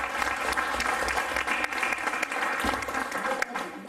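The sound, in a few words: audience clapping for sponsor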